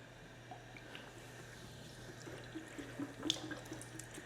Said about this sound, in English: the water here, the way it's set up is, we can run hot and cold water.